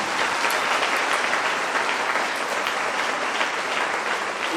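Loud, close applause from the audience at Thirumavalavan's speech to IAS students breaks out after a mention of his narrow election win, a thick, steady wash of clapping hands with no break.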